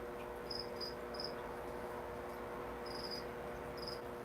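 A cricket, offered as live prey to a pet creature, gives short high chirps in scattered pairs and singles against a steady low background hum, fairly faint and with no talking.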